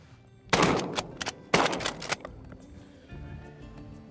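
Two loud, close gunshots ring out about a second apart at incoming ducks during a waterfowl hunt from a sink box, each with a short echoing tail, followed by quieter outdoor stillness.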